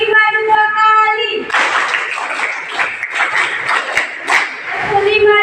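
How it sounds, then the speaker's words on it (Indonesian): A classroom of students claps a rhythmic five-beat pattern twice in a row, sharp group claps following a teacher's spoken cue, loud and close. "tepuk 5 2 kali"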